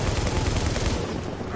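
Dense automatic gunfire from a co-op session of the shooter The Division, rapid overlapping bursts roaring close and loud for the whole moment before easing slightly at the end.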